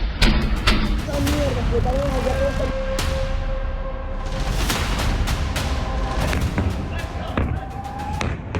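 Repeated sharp booms and cracks from explosions at night in Caracas, Venezuela, some distant and some close, ring out over a continuous rumbling background with faint voices.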